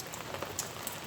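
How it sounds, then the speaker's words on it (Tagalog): Steady rain falling outdoors among garden plants, a soft even hiss with scattered light drop patters, faint and continuous with no voices. "Umuulan talaga, oh. Ulan ng ulan."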